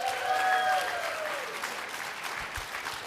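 An audience at a presentation claps, loud at first and then tapering into a softer, thinning spatter of hands over about three seconds.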